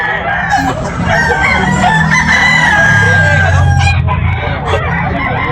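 Roosters crowing and clucking at a busy Sunday gamecock market in Tabunok, Talisay, Cebu, with several overlapping crows and steady loud clucking from birds close by.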